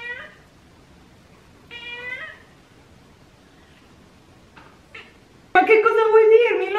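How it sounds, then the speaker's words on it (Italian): A house cat meows in several short calls, one near the start and one around two seconds in, followed by a louder, longer meow near the end, with quiet gaps between. "Come potete vedere, gatto Denver si è autoinvitato a partecipare attivamente a questo video"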